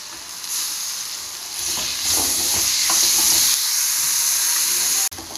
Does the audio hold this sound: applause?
no